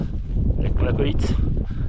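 Gusty wind on a mountain trail descending toward Cogne during the Tor des Géants buffets the microphone, a steady low roar with brief fluttering rustles throughout.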